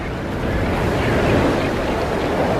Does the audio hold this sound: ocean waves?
yes